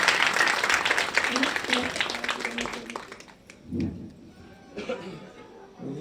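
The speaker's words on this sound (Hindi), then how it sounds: "पूज्य महाराज श्री जी जोरदार तालियों के साथ में स्वागत करेंगे।" An audience at a Ram Katha religious gathering claps to welcome a revered guru. The applause is loud and dense at first, then thins into scattered claps, with a few quieter bursts later on.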